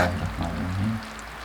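Hot sugar syrup for homemade lollipops poured into a bowl of water, a short close splash and trickle that fades within about a second.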